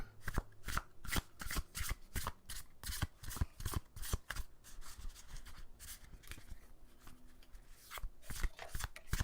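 Tarot cards are shuffled close by in quick riffling bursts of crisp flicks and slaps, pausing briefly and then continuing, with no speech.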